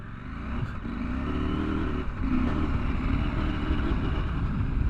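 A 2024 KTM 790 Adventure motorcycle with WP Xplor Pro suspension riding off-road, its engine droning steadily with a low rumbling hum and a slight rise in pitch, near and continuous.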